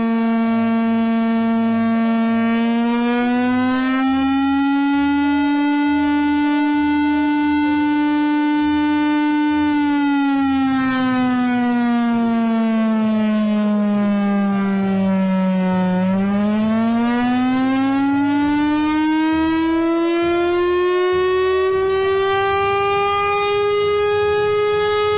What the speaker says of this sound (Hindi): ऐसे बजता हवाई हमले का सायरन। देखिए विश्व का सबसे बड़ा एयर रेड सायरन